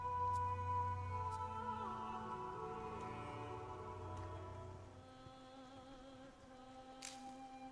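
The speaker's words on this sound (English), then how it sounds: "it's raining." Rain falls in the video game Daemonologie, a steady soft patter under a droning musical score, continuous and moderately quiet throughout.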